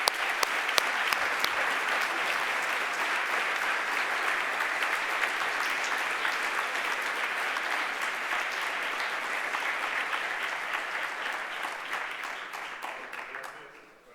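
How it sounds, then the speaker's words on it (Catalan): Audience at a 2023 mathematics graduation ceremony claps for a graduate, sustained even applause lasting about fourteen seconds, with a voice briefly audible underneath, tapering off at the end. "un aplaudiment"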